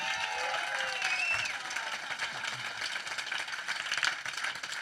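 Applause from a comedy show audience, a moderately distant wash of clapping with some scattered cheers and a sustained vocal tone early on, steady throughout.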